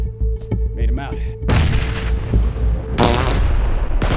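Grenade explosions in PUBG, two loud booming blasts about a second and a half apart, each with a rumbling tail, among other gunfire sounds.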